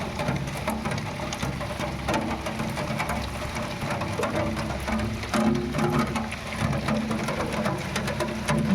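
Steady rain falls from a fully clouded sky, a dense, even hiss of drops that holds at the same level throughout with no voices.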